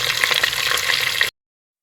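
Chicken dropped into a pan of fried garlic and ginger sizzles loudly and steadily, a dense hiss with light crackles, then stops abruptly.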